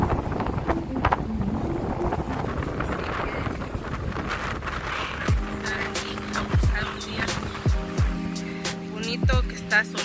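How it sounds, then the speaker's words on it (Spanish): Wind gusting across the microphone beside a lake in Saskatchewan, Canada on a sunny day, rough buffeting rumbles that come and go, joined later by scattered clatter and knocks. "aquí hay un poquito de viento"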